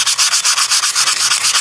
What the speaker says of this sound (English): I use the sandpaper right here, and I'm gonna try to clean as much of this rust off as I can